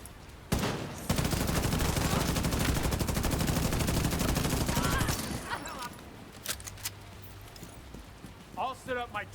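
Rapid tank gunfire in a video game, a dense, loud sustained burst of repeated shots lasting several seconds, then stopping abruptly and giving way to quieter scattered game sounds and faint voices.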